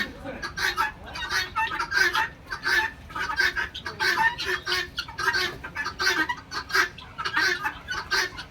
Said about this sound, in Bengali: বাচ্চা মুরগিগুলো খুবই সুন্দর আমার কাছে